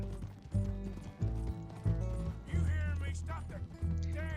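Fast Arabian horse galloping in Red Dead Redemption 2, steady rhythmic hoofbeats over game music and ambience, with occasional whinny-like tones.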